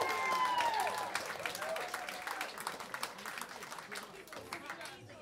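Audience applause and clapping for a bass player at an 18th birthday party gig, a dense, steady burst of hands filling the room with crowd voices mixed in, fading slightly toward the end.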